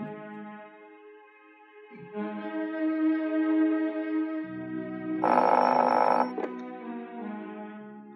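An office telephone rings steadily, a bright repeating electronic ring over a low steady hum, with a louder burst of ringing toward the end.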